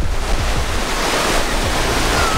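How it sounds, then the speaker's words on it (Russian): Baltic Sea surf washing onto the shore at Zelenogradsk near Kaliningrad, a steady loud roar of breaking waves with wind buffeting the microphone throughout. "И Балтийское море."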